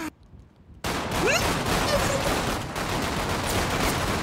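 Gunfire in GTA 5 roleplay erupts after a brief quiet moment into a dense, loud, continuous barrage of overlapping shots that keeps going to the end.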